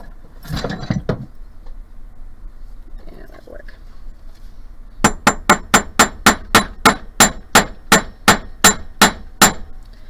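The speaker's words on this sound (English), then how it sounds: "So I'm going to go ahead and hammer one of these flat." Metal wire ring for beadwork struck flat with a hammer: about sixteen sharp, evenly spaced metallic blows in a steady rhythm, close and loud, following a brief stretch of quiet voices and shuffling.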